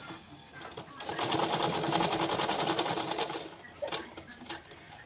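A sewing machine stitches a baby shirt collar in a run of rapid mechanical whirring lasting a few seconds, with light clicks around it and a person speaking over the work.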